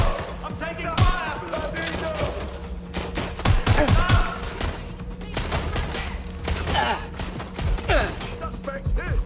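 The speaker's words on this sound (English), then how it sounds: "I'm getting shot at here!" Gunfire in the video game Watch Dogs Legion, with rapid bursts of shots and thuds packed into dense clusters at steady loudness against a background game hum.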